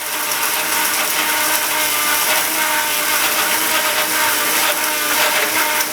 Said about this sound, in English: So I'm gonna grind this up real quick.